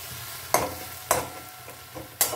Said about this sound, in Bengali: 1 চামচ জিরে আদা লঙ্কা পেস্ট এর মধ্যে আমি দিয়ে দিলাম। দিয়ে ভালো করে এবার আমি এটাকে কষিয়ে নেব।